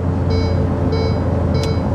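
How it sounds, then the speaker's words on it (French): Warning chime from a Ferrari F8 Tributo as stability control is switched off: three short repeated high beeps spaced evenly over a steady engine idle hum. "Il y a même une alarme pour te dire attention."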